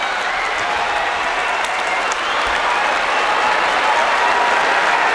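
A packed sumo arena crowd roars steadily and loudly before the playoff bout between Hoshoryu and Aonishiki on the final day of the 2025 Kyushu tournament, a dense continuous wall of cheering and clapping that never lets up.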